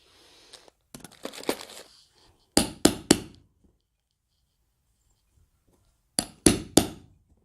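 A hook-setting machine punches a metal trouser hook into fabric, giving sharp close clacks in two quick clusters of three, with softer handling clicks and rustle before them and quiet gaps between.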